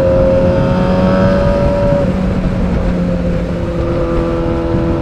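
A Yamaha R6 sport motorcycle's engine roars loudly and close while riding, a steady high-revving drone with rushing wind noise and shifting pitch.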